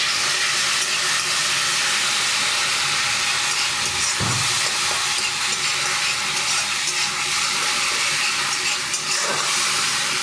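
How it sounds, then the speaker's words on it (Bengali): Green chili paste and turmeric powder fry in hot oil while cooking crab curry, a loud, steady sizzle and hiss that runs the whole time with a brief stir or clatter midway. "এবারে আমি কাঁচা লঙ্কা বাটাটা দিয়ে দিলাম, আর একটু হলুদ গুঁড়ো দিয়ে দিলাম।"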